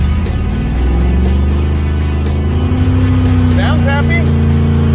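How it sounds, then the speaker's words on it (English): Beater car doing a burnout, its engine roaring loud and steady throughout with a harsh, sustained drone and rising revs, close to the listener. "We need to do a burnout"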